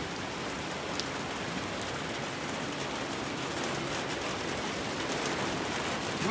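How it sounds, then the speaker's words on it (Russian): Steady rain falls on a garden, making an even, continuous hiss of drops on surfaces with no voices or other sounds. "Вот сад в дождь."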